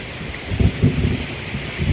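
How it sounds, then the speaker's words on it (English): Low thunder rumbles in short bursts over a steady hiss of rain and wind as a storm begins, with no one talking. "oh, it's going to rain"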